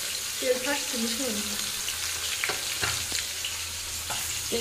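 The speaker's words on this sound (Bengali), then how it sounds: "এখন ভাজা হচ্ছে আর ভীষণ তেল ফাটছে" Fish pieces fry in hot oil, the skin making the oil spit and splutter in a constant hiss with sharp pops, while a faint voice drifts in briefly near the start.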